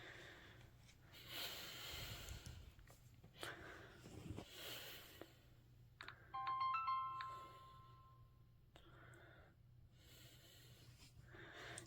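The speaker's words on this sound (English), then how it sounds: "This one went automatically because it has a startup sound" Mobile phone powering on and playing its startup sound, a short melodic electronic chime around the middle, faint and brief against quiet breathing and handling noise.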